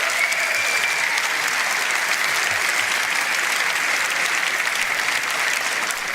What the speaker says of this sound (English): Please give a round of applause for Chris Rose and Vanessa Callow.